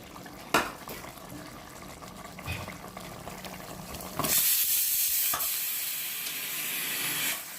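About one and a half kilos of washed, drained meat tipped into a cooking pot for a curry made without roasted coconut: a clatter, then a sustained wet, sizzling rush with a metallic knock, close and fairly loud.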